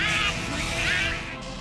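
A cartoon duck's quack imitated by voice, a harsh, buzzy nasal squawk that runs steadily for under two seconds and is loud and close.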